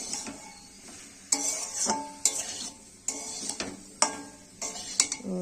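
A spiced masala for a fish curry with cauliflower and potato being stir-fried in a pan: a faint sizzle broken by repeated metallic spatula scrapes and clinks against the pan, close up with no talking.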